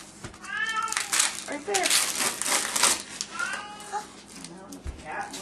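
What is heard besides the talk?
cat meowing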